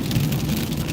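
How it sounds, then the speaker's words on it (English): Steady rain falls during a thunderstorm, a dense continuous wash with low rumbling underneath and no clear break, heard alone at moderate level. "Rainy down here today, lightning and thunder."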